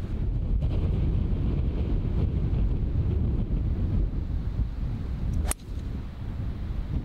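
Strong wind on an uphill golf hole batters the microphone with a continuous low roar and gusting rumble, loud and unbroken, with one sharp knock near the end.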